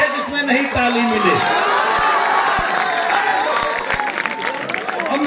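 Audience at a rural poetry gathering in West Champaran village claps and cheers, a dense steady wash of applause with shouts and whoops mixed in, and voices talking over it.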